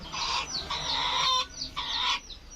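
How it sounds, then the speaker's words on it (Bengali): A desi hen sitting to lay eggs inside a netted village chicken coop clucks and cries loudly in three repeated drawn-out bursts, close by. "এটা ভেতরে একটা রয়েছে ডিম পাড়ার জন্য বসে, দেখুন কেমন চিৎকার করছে"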